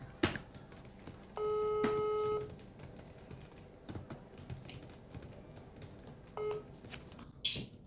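Telephone keypad tones sound as a number is dialled before a call, a steady two-tone beep lasting about a second, then a shorter one later, among soft clicks and room noise.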